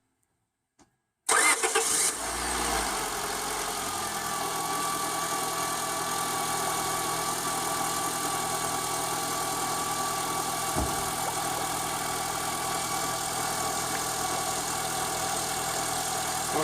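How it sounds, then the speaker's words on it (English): A 2002-2005 Honda Civic engine cranks and fires after about a second of silence, then settles into a steady, continuous idle with a faint whine, close and alone with no talking. "now we'll start the car, let it get to operating temperature"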